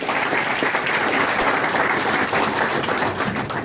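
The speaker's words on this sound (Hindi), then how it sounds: "जोरदार ताली बजाइए इस बार" Loud, sustained applause from an audience at a Bahujan federation gathering with a newly appointed minister, dense clapping that stays steady from start to finish with no voices on top.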